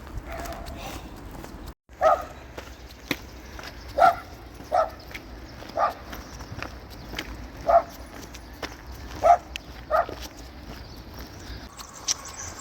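Outdoors along the Guadiana river, a dog barks repeatedly, roughly once a second for about ten seconds, sharp and fairly close above a low background noise.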